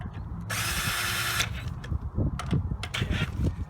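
Ratchet working on the axle cover bolts of a 1997 Dodge 3500 diesel dually rear axle, a steady broadband burst of about a second followed by shorter mechanical clicks and clatter, close and fairly loud.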